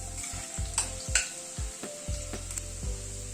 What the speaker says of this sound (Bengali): প্রথমে আলুটাকে একটুখানি হালকা করে ফ্রাই করে নেব।